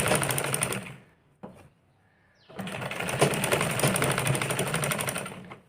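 An electric sewing machine stitching along the edge of a blouse, a fast steady whirring run that stops, pauses briefly, then resumes for a longer continuous run.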